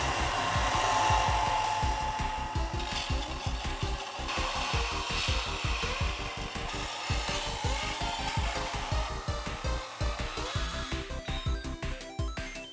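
A handheld power tool smooths a rough cut edge with a close, steady motor drone and rapid rhythmic scraping chatter throughout, with no voices.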